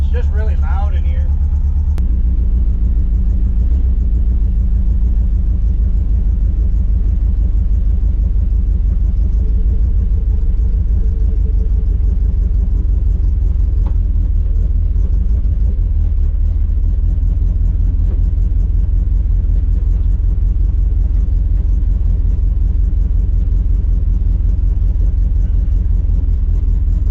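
A lowrider project car rumbles with a deep, steady engine drone from inside the cabin while it is driven, loud and constant, with someone talking over it at times.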